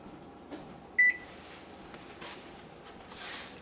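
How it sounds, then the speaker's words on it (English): Oven timer beeping once as it is set during biscuit baking, a short clear electronic tone over a quiet kitchen room hum. "set the timer for 15 minutes to check"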